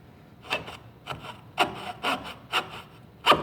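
A hand saw cuts through wooden crown molding in about seven short, evenly spaced rasping strokes, close and distinct, with quiet pauses between each pull.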